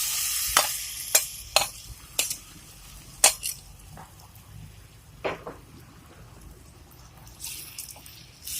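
Cabbage and egg mixture frying over low heat in a pan, soft steady sizzle punctuated by several sharp clicks and scrapes of a utensil, fairly quiet and close with no talking.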